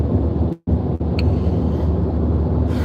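Road noise inside a car driving on a highway: a loud, steady low rumble with wind hiss, briefly cut out twice near the start, then continuing unbroken without speech.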